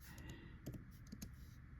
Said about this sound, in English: So I would just type in mermaid